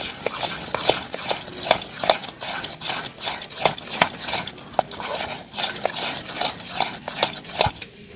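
A spoon works through semolina batter tinted with saffron-coloured kesari food colour for steamed bhapa pitha, giving a close, steady rhythm of quick clinks and scrapes against the bowl.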